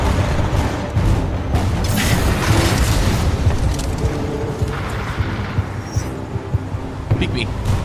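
An enemy ship fires on the player in the video game Titanfall 2, sending a run of heavy, rumbling booms and blasts that overlap continuously at close range.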